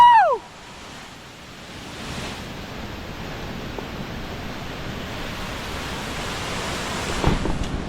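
Steady broadband roar of the Jogini waterfall near Vashisht village, Manali, a constant rushing wash of falling water that stays dense and even throughout.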